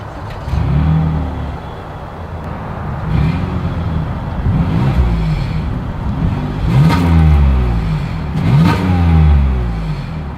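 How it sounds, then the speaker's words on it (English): A 2023 Toyota Highlander's engine revs repeatedly through its exhaust, rising and falling in several loud surges over a steady idle, recorded close with no talking. "As always, here is that exhaust clip."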